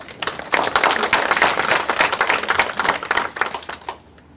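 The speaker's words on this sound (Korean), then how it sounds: "우리 보건소 직원들 다시 한번 수고했다고 박수 한번 주셨습니다" Brief burst of clapping from staff in a district office meeting room, dense broadband patter for about four seconds before tapering off near the end.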